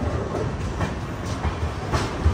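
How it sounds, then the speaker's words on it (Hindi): A passenger express train rolls along the rails near Ludhiana station, giving a steady, loud rumble with faint rhythmic clicks from the wheels and no voices. "ट्रेन हमारी ऑन टाइम चल रही है"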